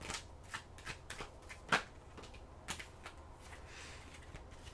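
Tarot cards are shuffled by hand, a quiet close riffle of soft papery flicks and taps in an irregular rhythm, with no voices.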